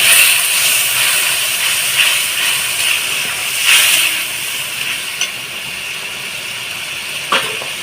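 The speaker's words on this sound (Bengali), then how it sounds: "তারপরে অল্প সামান্য জল দিয়ে দিচ্ছি মশলাটা" Water poured onto ground cumin, coriander and pepper in a hot pan, setting off a loud, steady hiss of sizzling steam that stays near and continuous, with a few faint clinks.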